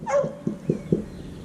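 Three quick, small dog barks in a row after a short yip, fairly close, in a quiet setting.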